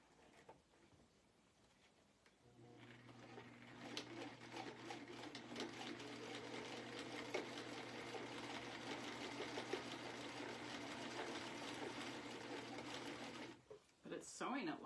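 A sewing machine stitches through a thick section of an altered denim jacket, a steady whirring hum with a rapid needle rhythm that runs continuously for about eleven seconds, close and fairly loud, then stops.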